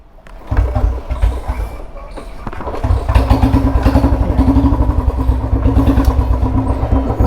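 A Royal Enfield Bullet 350 motorcycle with modified alloy wheels fires up close by. Its deep single-cylinder thump builds from a few uneven beats into a steady, loud, rapid rhythm.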